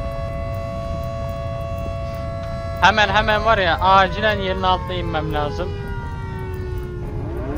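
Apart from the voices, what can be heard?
sirens wailing in the video game Volcanoids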